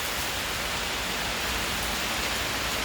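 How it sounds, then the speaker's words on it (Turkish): Steady, dense rain pours down in Shkodër, Albania, in a continuous hiss, close and loud, with no voices or other sounds. "O kadar iyi giderken şansımız yağmura yakalandık gene."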